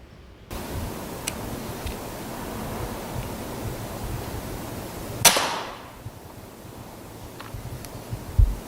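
A single sharp airgun crack cuts through steady night-time hiss as a rat is shot in darkness, followed by faint ticks and a soft thump near the end.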